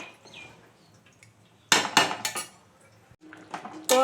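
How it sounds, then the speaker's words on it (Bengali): A metal lid set onto a cooking pot of chicken and potatoes: a few sharp clanks and rattles in quick succession, close and fairly loud, after a quiet stretch. "এখন আমি ঢাকা দিয়ে দেব।"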